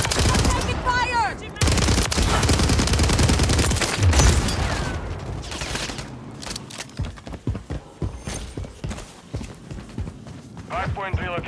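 Rapid bursts of automatic gunfire and scattered shots in Call of Duty: Modern Warfare III multiplayer, dense and loud early then sparser, mixed with running footsteps and voices talking over the action.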